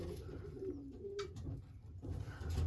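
Several racing pigeons coo in a loft, a steady low warbling murmur from nearby birds, with a brief faint rustle midway.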